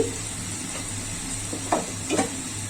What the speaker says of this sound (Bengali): এর পানিটা শুকানো পর্যন্ত আমি এটা কষাবো